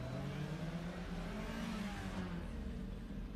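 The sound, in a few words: Subaru BRZ car driving on race course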